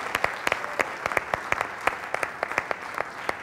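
A studio audience claps for a sports show, a sparse, uneven patter of individual hand claps, fairly close and steady throughout with no voices over it.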